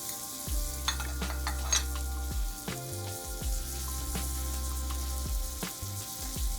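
Butter sizzling and melting in a pan for a lentil soup with gluten-free croutons, a steady close crackle with light spatters and occasional stirring scrapes, no voices.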